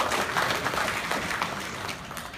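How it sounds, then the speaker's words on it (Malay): Audience applause at an UMNO divisional delegates' meeting, a dense wash of clapping from a crowd that holds steady and slowly fades, heard at moderate distance. "Beri tepukan yang gemuruh."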